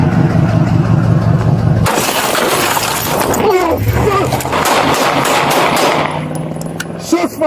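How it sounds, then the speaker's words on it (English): Rapid loud bursts of gunfire erupt at a police traffic stop, a dense barrage of sharp cracks over engine rumble and radio chatter, followed by a voice speaking amid lingering noise. "Without warning, Wade turned and opened fire on the officer"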